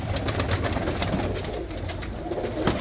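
A flock of pigeons coos continuously at close range, dense overlapping calls mixed with sharp flutters and scratchy clicks throughout.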